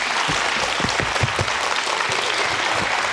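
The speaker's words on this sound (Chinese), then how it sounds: "我们再一次给许医师一个热烈的掌声" Audience gives warm, steady clapping after Dr. Tien-Sheng Hsu's lecture, a dense, even applause from a crowd of listeners.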